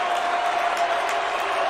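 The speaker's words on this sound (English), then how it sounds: "this crowd getting into it, urging this defense on" A football stadium crowd at a college game, San Diego State hosting Utah State, roars steadily and loudly on third down, urging the defense on, with a dense unbroken wash of cheering throughout.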